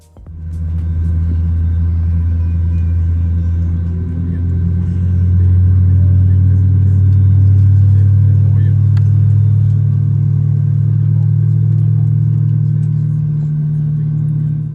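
Deep, steady SAS airliner engine rumble at Stockholm Arlanda swells gradually and holds, a low continuous drone with a faint mid-range hum above it.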